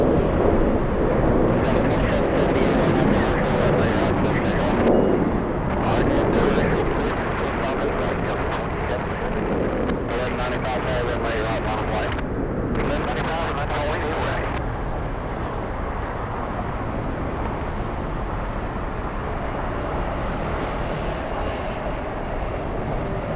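A Boeing 717 jet takes off on a long runway roll at Atlanta airport, a broad steady engine roar at some distance with occasional crackle, while people talk over it.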